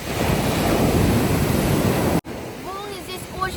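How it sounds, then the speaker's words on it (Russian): A loud, steady roar of crashing surf and strong wind on a beach at Bari, Italy, fills the first seconds, then cuts abruptly to a quieter scene with faint chirps. "Волны здесь очень большие, и в воде все сидят буквально на берегу."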